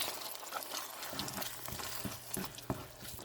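Masala frying in oil for Tamil fish curry kulambu, a quiet steady sizzle with occasional soft pops and stirring clinks, heard close and alone.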